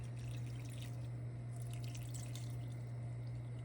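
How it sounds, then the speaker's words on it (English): A cup of water pours into a pot of broth, a faint trickling splash over a steady low hum, heard close and alone with no talking. "Last thing we're adding to this is just 1 cup of water."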